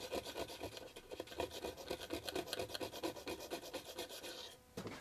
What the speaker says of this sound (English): and then give it a scrape